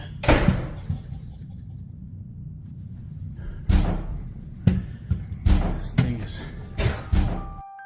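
Cupboards and doors around a house are shut one after another, giving a string of sharp thuds and bangs: one early, then a cluster spaced about a second apart, fairly close and distinct.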